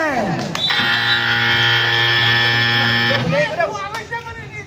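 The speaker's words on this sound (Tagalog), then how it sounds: "Buzzer!" A loud, sustained electronic buzzer ending the first quarter of a basketball game blares for about two and a half seconds, bracketed by crowd noise and voices before and after.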